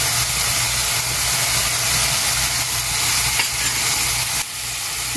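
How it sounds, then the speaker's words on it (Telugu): Capsicum pieces frying for veg Manchurian give a loud, steady hiss and sizzle close up, continuous throughout with faint stirring under it, no voices. "కొన్ని ముక్కలు ఉంచుకున్నాం కదా క్యాప్సికమ్ అవి కూడా వేసేద్దాం టూ మినిట్స్ పాటు ఫ్రై అవనిద్దాం"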